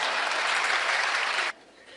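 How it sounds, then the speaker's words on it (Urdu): Audience applause in a hall, a dense burst of clapping that cuts off abruptly after a second and a half. "میں قسم کھاتا ہوں یہ ہال تالیوں سے گونجتا رہے گا۔"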